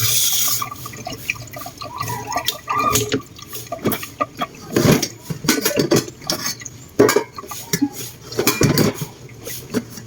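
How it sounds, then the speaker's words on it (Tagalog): Dishes, pots and cutlery being washed in a kitchen sink, with running tap water, splashing and repeated clinks and clatters of metal and crockery at close range. "Ang dami namin hugasan kasi sa paggawa ng order kanina."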